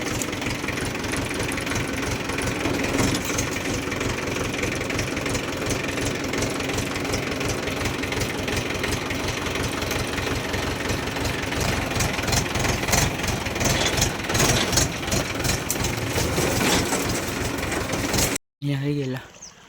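A tractor straining to pull out of mud while puddling a field runs with a loud, rapid knocking engine throb that holds steady throughout, then cuts off abruptly near the end. Voices speak over it.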